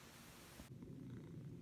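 A pet cat purrs softly and close by, a faint, steady low rumble over quiet background hiss, with no talking.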